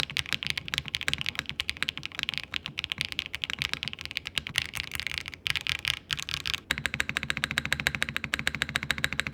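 Rapid, steady typing on a Zoom75 TIGA keyboard fitted with purple keycaps, deep and clacky keystrokes close up, continuous with no voices and a brief pause before resuming.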